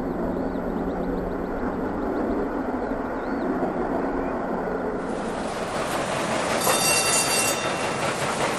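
Restored steam locomotive 6024 King Edward I hauls its train at speed, a steady loud roar of running carriages and rail noise with a brief high tone midway, continuous throughout.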